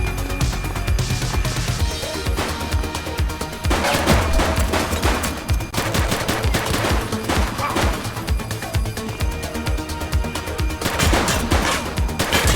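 Dense, sustained gunfire from a police action video game set in a city precinct, with rapid bursts and repeated volleys that run loud and continuous across the clip, layered with in-game noise and no clear talk.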